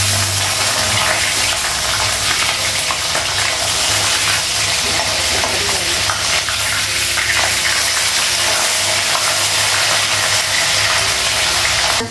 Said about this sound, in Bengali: গ্যাসটা কমালাম, মাছটা ভাজা হয়ে গেছে।